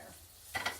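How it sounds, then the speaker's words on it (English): Chicken livers coated in salt and pepper seasoning hit a hot skillet, a quiet pause giving way to a sudden short burst of sizzling frying. "Get these covered good and get them in the skillet."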